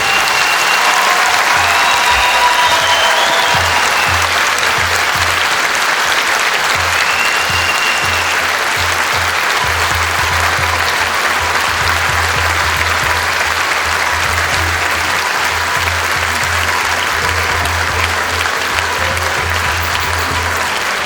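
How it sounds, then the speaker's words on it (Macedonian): An audience applauds all the participants at the close of a folk dance ensemble's tenth-anniversary jubilee, with loud, steady clapping from a large crowd that lasts throughout and has no speech over it. "Преголем аплауз за сите учесници."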